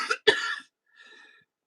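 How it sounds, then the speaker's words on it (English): A woman gives two harsh, close coughs in quick succession, followed by a fainter, breathy throat sound, then silence. "Look at me coughing."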